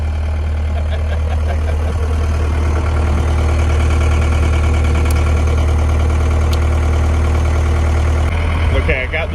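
A John Deere skid steer engine idling while warming up, steady low rumble close by, with a few faint clicks and a brief clatter near the end.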